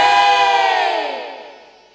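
A large crowd at a Chhattisgarhi folk stage performance in Raipur shouts a sustained devotional victory cry to Mahamaya, loud and unified at first, then fading out over about two seconds.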